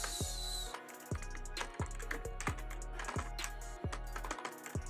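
Keys on a computer keyboard are tapped close by in a short run of separate clicks, about one each half second, spelling out a word.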